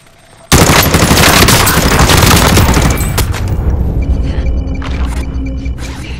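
Call of Duty Modern Warfare on Rebirth Island: a sudden, loud burst of rapid automatic gunfire erupts after a brief quiet start, then continues as sustained shooting that slowly fades.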